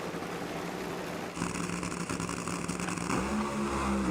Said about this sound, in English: And it's another beautiful run between these two cars.